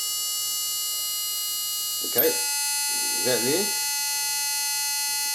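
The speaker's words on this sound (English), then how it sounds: "What you hear here is what it's running off the ultrasonic speaker." An ultrasonic speaker driven by a frequency doubler gives off a steady, shrill electronic tone with many overtones that holds unbroken throughout, while someone briefly speaks over it twice.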